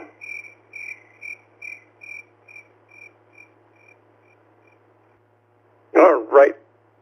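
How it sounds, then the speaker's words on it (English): Crickets kept in a cage in a home studio chirp in a row of about a dozen short, evenly spaced pulses that slowly fade, then someone briefly speaks close by. "I was able to herd those little crickets back in their cage."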